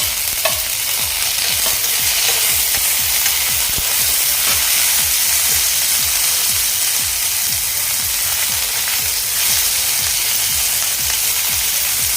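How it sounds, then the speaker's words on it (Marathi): Tomatoes fry in a pan for spicy Puneri misal with a constant bright sizzle, and regular scraping stirring strokes repeat throughout. "आता यावर मी टॉमॅटो घालून घेतो"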